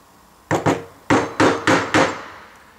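A sharp firmer chisel is struck into wood on a bookstand joint, giving six crisp, close knocks in uneven pairs and singles, with no talk.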